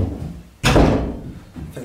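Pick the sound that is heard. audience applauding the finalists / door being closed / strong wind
door being closed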